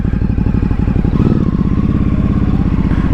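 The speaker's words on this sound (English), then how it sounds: "Sounds good on the stock exhaust." Ducati Hypermotard 950 SP on its stock exhaust being ridden on the road, a loud, close twin-cylinder engine with a steady throbbing pulse that rises slightly in pitch partway through.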